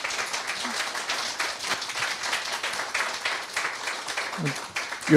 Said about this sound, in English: So I would like to have a warm applause for Deepti Kapoor, please.